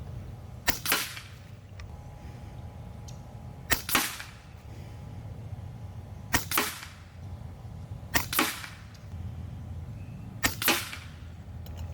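Five FX Impact M4 air rifle shots are fired at a target 35 yards away, each a sharp, close crack with a short tail, spaced two to three seconds apart over quiet outdoor background.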